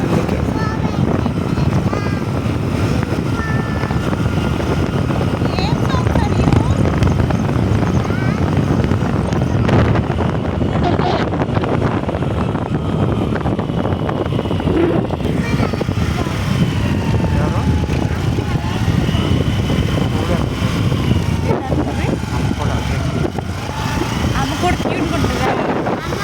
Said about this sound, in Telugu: ఏ సాంగ్ వినిపించట్లేదు, గాలి సౌండ్ బాగా ఉంది కదా, అందుకే.